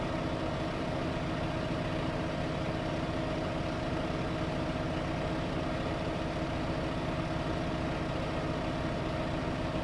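A 115 horsepower tractor engine idles in Farming Simulator 2015, a steady, even mechanical hum that holds constant and fairly loud for the whole stretch, with no talking over it.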